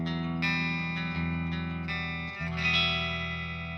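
Electric guitar played through an amplifier with a clean tone, sustained chords ringing close and steady with light reverb, no effects pedal engaged.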